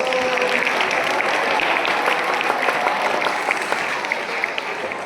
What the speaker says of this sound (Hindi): अरे वाह, अपने लिए फिर से ताली बजा दो।